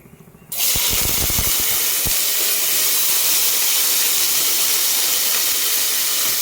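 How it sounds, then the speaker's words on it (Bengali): Vinegar hits hot oil in a pan while Bengali-style pahadi chowmein is cooked, and a loud, sudden sizzling hiss bursts up and stays roaring and steady, close to the mic. "আমার তেল গরম হয়ে এসেছে, এর মধ্যে এবার আমি একটুখানি ভিনেগার,"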